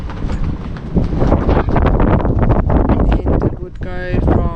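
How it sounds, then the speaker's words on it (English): Strong gusting wind while sailing off Yasawa Island in Fiji buffets the microphone in loud, uneven rushes. It dips briefly near the end, then surges again. "the wind just became stronger and stronger and stronger"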